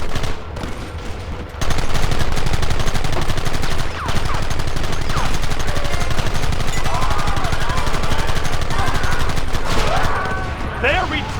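Heavy gunfire in the video game Red Dead Redemption, a dense, loud and continuous barrage of rapid shots over a busy outdoor battle, with voices shouting among the fire.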